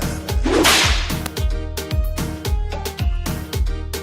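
Repeated whip cracks land in a steady rhythm, sharp and loud, with a swishing sweep near the start.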